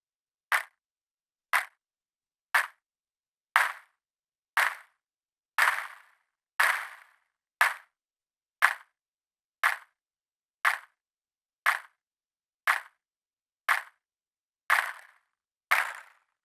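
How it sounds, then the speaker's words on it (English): A WMD Fracture synth module firing rigid particle bursts with long decays: sixteen sharp, evenly spaced percussive hits about one per second, each ringing out briefly, a few landing louder and fuller, with no voices. "This mode sounds much more rigid with long decays, as there is no amplitude envelope for the particles"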